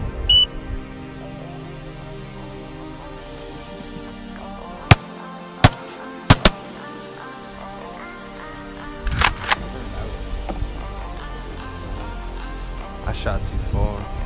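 Shotgun blasts ring out during a Louisiana teal duck hunt: five sharp, loud cracks in two quick clusters over quiet outdoor background.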